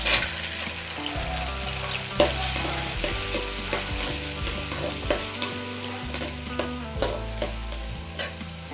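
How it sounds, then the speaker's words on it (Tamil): Shallots frying in a pan for vatha kuzhambu give a loud, continuous crackling sizzle close up, with a spatula stirring and scraping the pan at intervals. "சின்ன வெங்காயமும் போட்டுக்கணும் ரெண்டும் நல்லா ஏன்னா நல்லா வறுக்கணும்"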